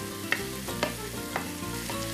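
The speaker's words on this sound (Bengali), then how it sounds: "আদা ভাজা।" Ginger fries in a pan with a constant sizzle, broken by several sharp stirring scrapes at a roughly regular beat.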